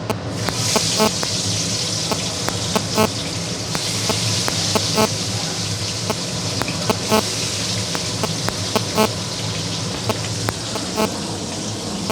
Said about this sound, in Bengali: মাছটা ভাজা হোক, ভাজা হলে আমি তুলে নেব।